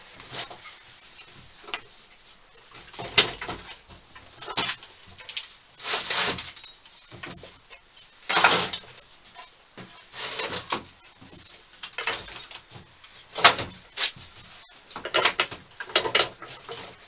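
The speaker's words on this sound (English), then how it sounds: "slide my drawers out." Metal drawers of a heavy duty tool workbench sliding out, a series of irregular scraping, rattling bursts with knocks between them, close and fairly loud with no talk.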